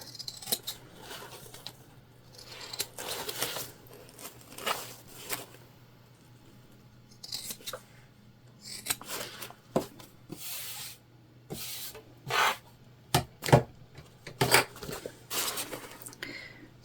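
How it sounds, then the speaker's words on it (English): Scissors trimming the corners of a sewn mini bag, a series of short crisp snips and fabric rustles close up, coming in irregular clusters with quiet pauses between them and a faint steady hum underneath. "Now we are going to trim our corners."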